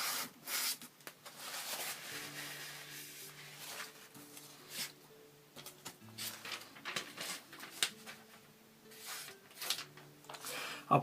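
A knife blade rubbed steadily across a sharpening stone, quiet rhythmic scraping strokes close up, over a faint low hum with no talking.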